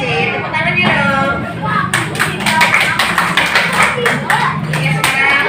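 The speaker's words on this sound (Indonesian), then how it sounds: "Tepuk tangannya dong." Classmates clap for a group that has just presented its discussion results, a few seconds of sharp, fairly close handclaps starting after a teacher speaks, with some voices underneath.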